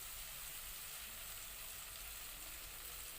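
Ginger paste frying in a pan during preparation of a village-style green jackfruit curry, giving a steady, dense sizzle that stays even and continuous throughout, close by and moderately loud with no talking.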